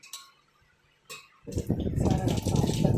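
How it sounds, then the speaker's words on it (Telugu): Fresh coriander leaves rinsed in water in a kitchen: after a couple of faint clinks, a steady, fairly close rush of splashing water takes over for the second half. "కొత్తిమీర తీసుకొని"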